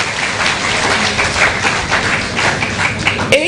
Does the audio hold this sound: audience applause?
yes